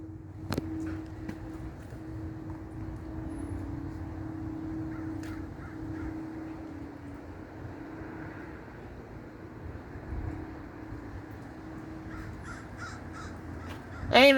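Crows caw repeatedly outdoors during a thunderstorm, their calls moderately distant over a steady low rumble of wind and storm noise, with a louder burst at the very end.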